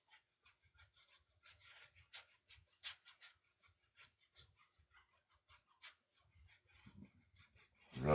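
Oil paint is rubbed onto canvas with a brush in short, faint, dry scratchy strokes, irregular bursts close up with quiet gaps between them and no talking.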